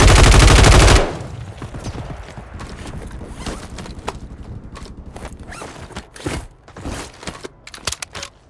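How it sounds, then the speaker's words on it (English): Gunfire from the Call of Duty Warzone video game: after a loud burst, rapid bursts and scattered single shots crackle and pop in a busy, unsteady stream, louder toward the end. "Taking enemy fire!"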